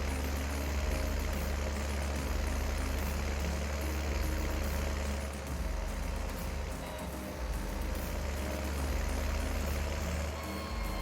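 A Deutz tractor engine idles in Farming Simulator 19, a steady low rumble with a broad hiss of game ambience, constant and fairly loud throughout with no break.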